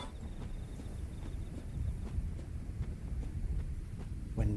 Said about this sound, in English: Windy, windy, wind sound effects.